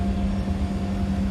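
An Embraer E190 jet taxiing in a flight simulator game gives a loud, steady engine drone with a sustained low hum and a constant tonal whine, close and unbroken, with no voices.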